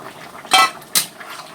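Mustard paste thinned with water is poured into a hot cooking pan with red amaranth stems. Two short clattering splashes and utensil knocks stand out over a soft background hiss, close by, with no voices.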